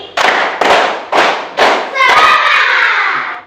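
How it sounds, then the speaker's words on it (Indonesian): A class of children stands and claps hands together in a rhythm of sharp group claps, four quick loud bursts followed by a cheering shout from the group, close and loud in a classroom. "Tepuk 5 kali."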